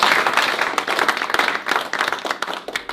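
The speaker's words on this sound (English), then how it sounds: "So give yourselves a big round of applause." A live audience gives a round of applause at a talk, brisk close clapping from many hands that stays loud for the whole stretch.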